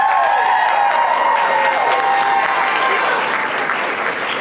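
Dense, loud audience applause from a crowd at a Game On event panel for the Resident Evil cast, a sustained wash of clapping that continues steadily throughout, with some crowd noise and faint voices underneath.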